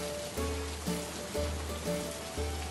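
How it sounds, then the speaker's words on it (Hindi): Heavy rain pours steadily in a constant dense hiss, with a rhythmic low pulsing music bed running underneath and no voices. "साधु जाने के बाद बारिश और बढ़ गया"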